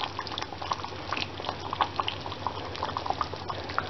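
Butter chicken simmers under a lid in a pan, giving a steady close bubbling and popping with no voices.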